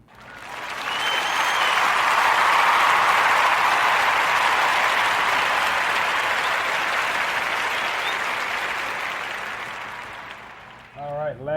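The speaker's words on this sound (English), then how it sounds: "let's give a warm narrative podcast round of applause for Janice Taylor, aka High Low Lux" A dense burst of applause swells and holds, then fades out. A voice comes in right at the end.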